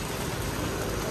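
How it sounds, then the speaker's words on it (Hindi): Heavy rain pouring down in Mumbai during a weather alert, a dense, steady wash of falling water that fills the whole clip without a break and with no talk over it. "पर बहुत तेज़ बारिश है"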